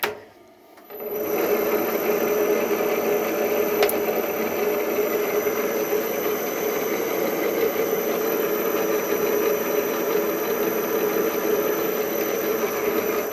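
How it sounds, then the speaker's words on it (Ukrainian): A TV-4 benchtop metal lathe runs under power, giving a steady, continuous mechanical hum and whine at close range for the whole stretch, with no talk over it. "Станок працює, все добре."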